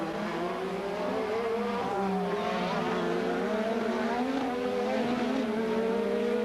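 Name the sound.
1986 Formula 1 turbo racing cars at Monaco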